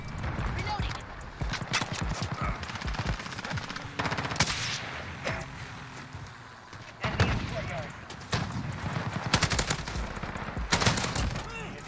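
AUG rifle fire in Call of Duty Modern Warfare, heard as loud, repeated automatic bursts with short pauses between them, mixed with other game effects while a player talks over the shooting.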